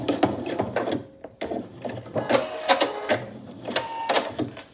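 A sewing machine tacks down the hanging loop of a skillet handle potholder with a few stitches near the edge, giving several short mechanical whirring bursts separated by pauses, close and clear with no talking.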